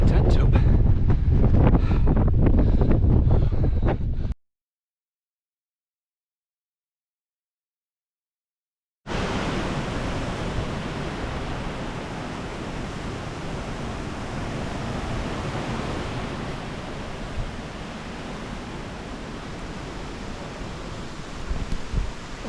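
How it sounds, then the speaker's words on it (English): Wind rushes steadily across the microphone in a broad, continuous roar, with a short silent gap partway through. "It's windy."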